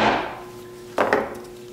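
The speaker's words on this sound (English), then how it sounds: "Good idea not to hit this with a metal hammer, so I've got a dead blow hammer here" Two dull, solid thuds of a dead blow hammer striking a rough-turned natural edge wooden bowl blank, close by, after a fading resonant ring.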